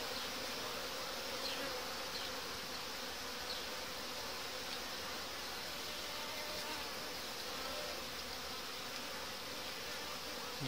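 Honeybees swarm around an open hive frame being moved while a nucleus colony is used to give a queen to a queenless colony, a constant dense buzzing drone that stays even and close throughout, with no voices.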